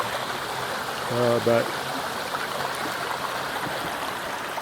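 Dora Creek, running unusually high, flows with a steady, close broadband rush of water; someone speaks a single brief word over it.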